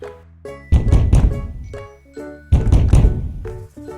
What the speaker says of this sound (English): They all came to her house and knocked on the door.